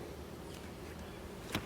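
Honey bees buzzing around a hive during an inspection, with frames sprayed with sugar water, a faint continuous low hum close by, with a brief knock near the end.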